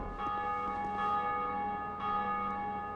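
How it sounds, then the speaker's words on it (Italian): Church bells ring in the game Dark Souls 2, a sustained metallic tolling with a second strike about two seconds in, heard alone without talk. "ho suonato per qualche strano motivo le campane"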